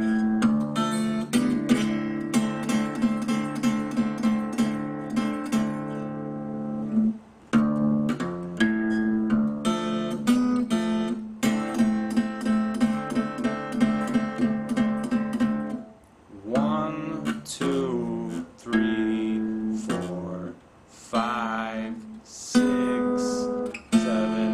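Acoustic guitar fingerpicking a blues song, thumb on the bass strings under pinched treble notes, a continuous ringing blues pattern with brief pauses, played alone without talking.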